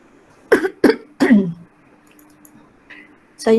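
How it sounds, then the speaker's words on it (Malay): Three sharp coughs in quick succession close to the microphone, followed by quiet room noise and the start of a voice at the end. "ada batuk sikit lagi"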